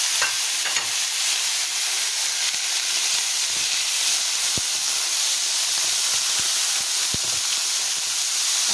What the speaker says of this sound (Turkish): Yarım kilo kuyruk yağını tavamıza ilave ediyoruz